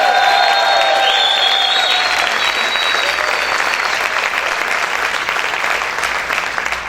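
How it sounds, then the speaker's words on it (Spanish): A church congregation applauds loudly and continuously in a dense wash of clapping, with shouts and cheers rising through it early on. The applause holds steady, then eases slightly toward the end. "¿Cuántos pueden gritar y aplaudir fuerte al Señor?"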